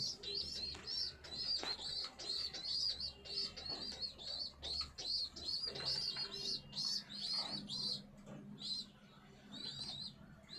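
Pet racing pigeons coo and chirp in a loft on a hot day, a continuous chorus of soft repeated calls layered close together, with faint low background hum and no one talking.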